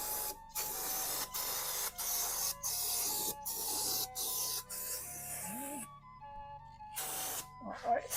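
Aerosol cleaner sprayed around the oil filter threads and oil pan of a 2018 Chevrolet Traverse during an oil change, heard as repeated steady hissing bursts separated by short pauses, fairly close, with brief clinks between.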